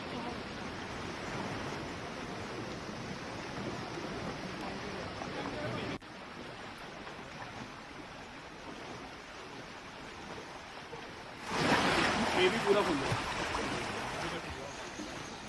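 Floodwater rushes through streets and lanes in Jammu after heavy rain, a steady broadband rush that suddenly grows louder partway through, with a voice speaking over it.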